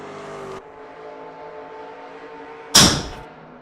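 Steady drone of a Commodore race car engine lapping in Assetto Corsa during a HOSS Drivers Championship race, a sustained tonal hum with a sharp louder burst near the end.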